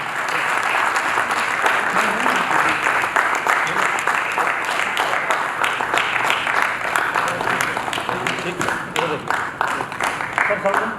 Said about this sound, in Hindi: हम सभी जोरदार तालियों से